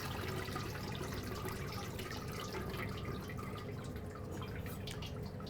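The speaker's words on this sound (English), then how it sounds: "And we're gonna let this drain out for 20 minutes." Mozzarella curds drain through a cheesecloth-lined fine sieve, giving a steady close trickle and patter of liquid with scattered drips throughout, no voices.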